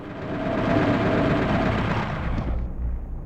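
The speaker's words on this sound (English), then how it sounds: "Oh wow, this chain gun is amazing!" A chain gun fires in a rapid, continuous burst in Doom 64, dense meaty shots blending into a loud roar that tails off near the end.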